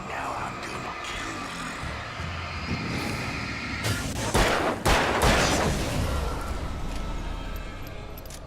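Gunfire in the video game Alan Wake, shots fired where a flashlight is aimed, a dense cluster of loud bursts mid-clip over a busy, noisy game soundscape.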